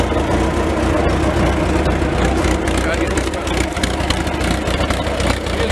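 A John Deere 24 engine runs roughly and unevenly, a steady, loud, close-up drone with a rough, pulsing texture throughout.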